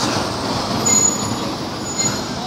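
A train running through Tanjung Priok railway station near the Jakarta port, a steady loud rumble of wheels on track with thin metallic squeals rising briefly over it.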